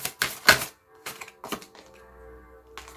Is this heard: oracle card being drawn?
yes